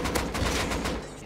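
Rapid gunfire bursts in an online multiplayer shooter, loud and close, a dense fusillade that trails off at the end with no speech.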